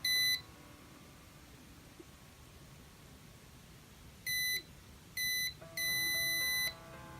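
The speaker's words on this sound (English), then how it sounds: "that's when the buzzer will go off" An Arduino buzzer triggered by an HC-SR04 ultrasonic sensor gives sharp electronic beeps: one short beep at the start, then after a quiet stretch two short beeps and a longer sustained tone.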